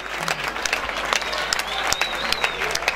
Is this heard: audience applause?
yes